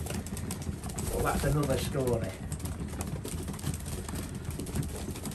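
Racing pigeons cooing in a loft after feeding, a steady rolling coo rising clearly around the middle over a constant background rustle, with someone speaking briefly at the start.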